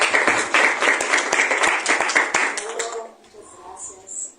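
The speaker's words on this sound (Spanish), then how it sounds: "Les pido un aplauso para que iniciemos." An audience applauds before a lecture on editorial support for Brazil's linguistic diversity: brisk clapping for about three seconds that fades out, leaving quiet room sound with a voice starting to speak.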